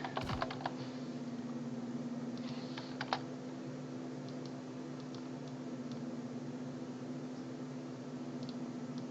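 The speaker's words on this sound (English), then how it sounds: "I am having a really hard time with my keyboard today." Keystrokes on a computer keyboard click in irregular bursts against a steady low electrical hum, the typing fairly faint and close, with occasional sharper taps.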